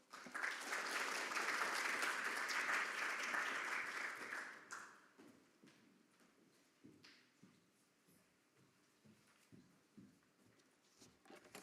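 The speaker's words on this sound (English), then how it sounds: "So with a big round of applause, can we invite Professor Monica Lackenpaul." An audience at a health inequalities training day applauds to welcome Professor Monica Lackenpaul, a steady, full round of clapping that fades after about four seconds into a quiet room with scattered taps and footsteps.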